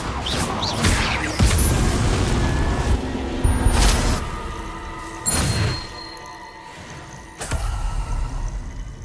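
Incendio fire spell cast in Hogwarts Legacy, with several bursting whooshes, booms and crashing impacts over busy game ambience and faint chimes.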